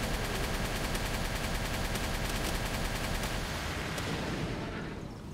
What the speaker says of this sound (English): let's hit him with the rockets